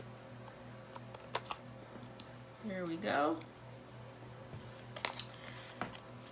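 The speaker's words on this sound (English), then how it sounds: "I'm just gonna cut off this back piece as soon as I can find my scissors." Scissors snip through a small back piece of patterned paper during card making, a short burst of cutting close by at mid-clip, with brief talk and light paper handling around it.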